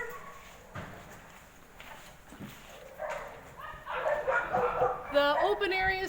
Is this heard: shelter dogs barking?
yes